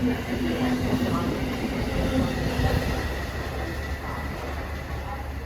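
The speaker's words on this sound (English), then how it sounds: "Sounded like his wheels were slipping a little bit when he started." An MBTA commuter train pulls away from a Boston-area station with its wheels briefly slipping, a steady heavy rumble with a sustained tonal whine early on that fades into continuous rolling noise.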